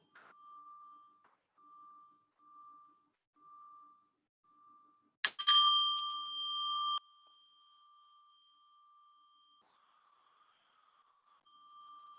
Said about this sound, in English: As you listen to the sound of the bell